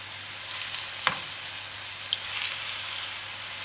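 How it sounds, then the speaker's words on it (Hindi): Green chilies fry in a hot pan with a steady close sizzle, punctuated by a few brief louder crackles and pops as they cook. "इसी तरीके से बाकी की सब्ज़ मिर्चों को हम फ्राई कर लेंगे"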